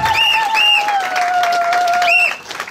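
A congregation at a church ordination ceremony applauds and cheers with steady clapping, while a sustained whistle or held high tone rises over the crowd noise before it fades.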